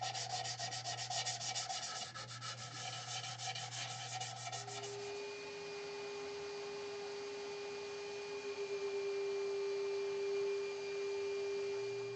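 Sandpaper worked by hand over the textured rim of a wooden platter, a steady close rasping rub with a tonal hum underneath that continues after the rubbing stops.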